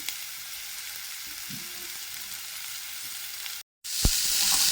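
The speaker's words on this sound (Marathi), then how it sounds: "आता आपण याच्यामध्ये बटाटे टाकायचे." Potatoes go into a pan of red chili powder and coriander powder frying in oil for pea rice, a low steady sizzle, then a brief drop to silence before a louder, brighter hiss of sizzling.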